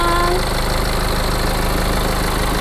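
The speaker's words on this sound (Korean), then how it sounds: "엔진 소리 일정합니다" A BMW 320d diesel engine idles steadily at close range, a constant rumbling clatter with no change in pace.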